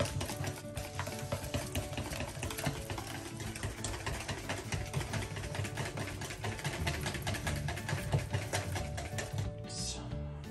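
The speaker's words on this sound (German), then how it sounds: "Jetzt einfach verrühren." An electric hand mixer stirring runny cake batter in a home kitchen, a continuous mechanical whir with rapid rhythmic chatter from the beaters, steady and close throughout, fading briefly near the end.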